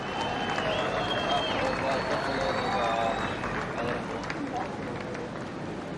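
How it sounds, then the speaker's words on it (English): Spectators applauding at a surf contest at Jeffreys Bay: steady crowd clapping and cheering carries through, with a voice speaking over the top and higher-pitched calls rising above the noise. "So our first round of applause is for all our spectators here at Jeffreys Bay"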